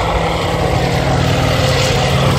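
An M18 tank weighing about 17 tons, with a fully automatic gearbox, drives past at an armoured vehicle show, its engine a loud, steady roar with a deep low drone throughout.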